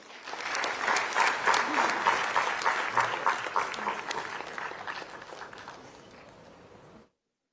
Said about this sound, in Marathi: मंडळी सर्व मान्यवरांसाठी पुन्हा एकदा जोरदार टाळ्या होऊन जाऊ द्या